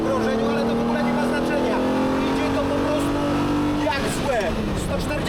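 A Ferrari Daytona with a carbureted twelve-cylinder engine revs on a race track, its pitch climbing steadily for about four seconds before dropping off sharply as the throttle is released, loud and continuous throughout.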